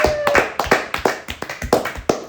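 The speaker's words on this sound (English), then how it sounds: "Give a big round of applause to Kennedy" Applause from a small studio audience on a comedy quiz show, a sparse set of sharp, distinct hand claps close to the microphone, only a few people clapping, with no talk.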